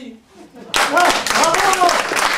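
Audience clapping at a café talent show, starting abruptly after a quiet moment and continuing as steady, dense applause with voices mixed in.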